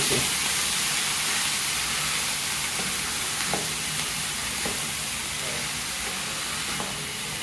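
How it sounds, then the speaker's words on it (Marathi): Cauliflower pieces sauté in a hot pan with a loud, continuous hiss and sizzle, broken by occasional soft knocks as they are stirred. "थोडं आपण हलवून घेऊया परतून घेऊया"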